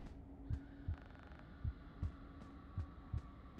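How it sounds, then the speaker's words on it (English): Soft, low double thumps of a heartbeat in the horror video game Five Nights at Freddy's: Into the Pit beat in a steady, slow rhythm under a quiet, constant hum, with no one talking. "Oh, there's like a heartbeat, which makes it all the creepier."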